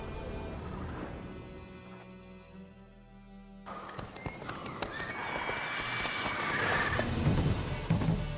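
Roach, the horse in The Witcher 3, clip-clops along in a steady gallop, the hoofbeats loud and close, and gives a neigh. A busier stretch follows, with the hooves continuing under a dense game soundscape.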